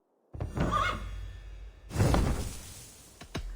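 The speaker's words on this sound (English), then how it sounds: "Let's go for the early medieval horse." An early medieval horse in the video game Assassin's Creed Valhalla gives a loud whinny, then snorts and a second neigh-like burst, followed by a short whoosh near the end.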